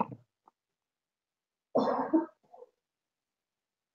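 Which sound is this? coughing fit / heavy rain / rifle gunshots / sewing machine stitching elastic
coughing fit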